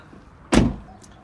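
A Jeep Rubicon door swings shut with one loud, close, solid thump, followed by a short fading rattle and quiet surroundings.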